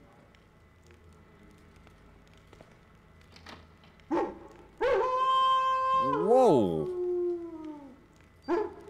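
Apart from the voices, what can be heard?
dogs barking in video game Thief 2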